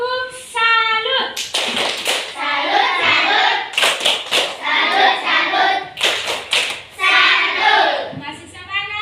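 Schoolchildren in a classroom perform a rhythmic salute clap together, with bursts of hand claps and taps mixed with children's voices throughout.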